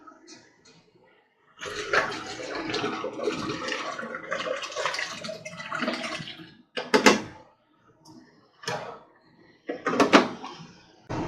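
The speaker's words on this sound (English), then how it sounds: "I'm going to go ahead and fill the Keurig with some Aquafina as well" Aquafina bottled water poured into a Keurig coffee maker's reservoir: a sustained splashing pour of about five seconds, then a few short bursts of water and plastic clunks, close by with no talk.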